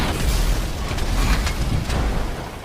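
A GTA Online explosion at a gas station bursts in a low, rumbling boom, followed by crackling debris and a few sharp pops.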